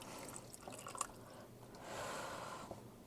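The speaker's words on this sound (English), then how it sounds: "So I'm just raiding my coffee machine for some water." Water trickling and dripping as it is drawn from a coffee machine to fill a container, a steady close liquid stream with small splashes and drips, running alone without talk for about three seconds.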